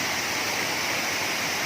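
Kuang Si waterfall near Luang Prabang, Laos, gives a steady, dense roar of falling water, constant and enveloping, with no pauses.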